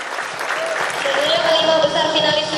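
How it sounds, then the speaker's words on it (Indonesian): Applause from the audience at a Miss UMN 2014 awarding night pageant as the top five finalists are presented, a steady dense clapping with a faint whistle-like tone through it, fairly loud and sustained. "Sekali kita berikan tepuk tangan untuk 5 besar finalis Miss Women"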